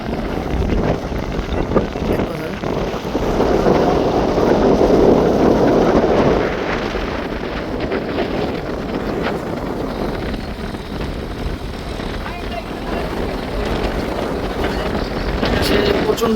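Strong wind roaring across a river during a race between two launch passenger boats, a continuous loud rush with blustery surges and engine rumble beneath, and someone talking over it.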